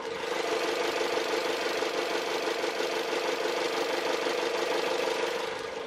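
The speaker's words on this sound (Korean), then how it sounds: "4기통의 2400cc 휘발유 엔진입니다." A Chrysler 200C's four-cylinder 2.4-litre gasoline engine idles steadily nearby, a smooth, even hum with a faint ticking texture and no voices.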